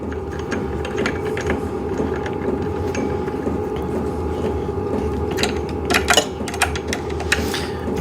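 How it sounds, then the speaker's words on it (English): A bolt being tightened down on the frame of a VEVOR adjustable bike trainer desk, a steady mechanical ratcheting whir with a few sharper clicks and rattles near the end, close and loud. "All right, let's tighten this down."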